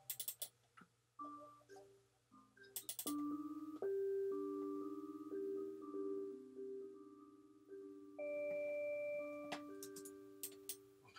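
Bell sound played from Akai MPC software: a sequence of clear, ringing pitched notes struck one after another, each sustaining and overlapping briefly, fairly quiet overall.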